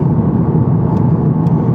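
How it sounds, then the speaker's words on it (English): Honda Civic Type R GT pulling hard in sixth gear from just over 40 mph, a loud, steady engine drone and road rumble heard from inside the car with no voices. "I'm bimbling along now in 6th gear at just over 40 miles an hour, and I'll put my foot down."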